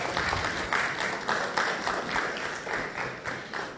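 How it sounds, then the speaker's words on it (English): Many hands applaud together at a lecture on active citizenship, a continuous mid-distance patter of clapping that rises and dips in gentle waves without letting up. "Let the applause be louder."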